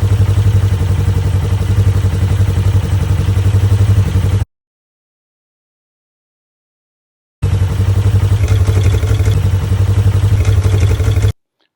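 A Polaris motorcycle engine fitted with a Hunterworks quiet primary drive runs at a steady, loud idle, its even throb broken by a few seconds of silence before resuming.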